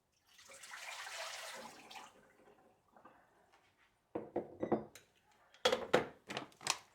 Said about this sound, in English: So I'm dumping this hot water out.